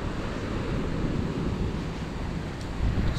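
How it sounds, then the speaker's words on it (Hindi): Sea waves break and wash along Kollam Beach in Kerala, a steady, fairly loud surf roar with wind buffeting the microphone, swelling slightly near the end with no one speaking. "लहरें।"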